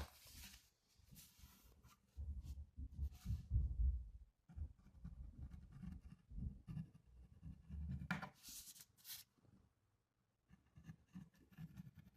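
A coupon clipper cuts through printed paper in faint, close scraping and rasping strokes, repeated in uneven bursts with short pauses between passes.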